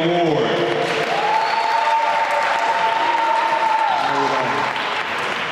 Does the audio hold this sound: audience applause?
yes